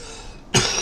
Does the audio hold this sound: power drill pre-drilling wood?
no